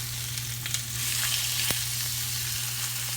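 Chicken pieces browning in a Rondeau pot for cacciatore, a steady close hiss of frying oil with a faint low hum beneath and occasional soft pops, with no talking.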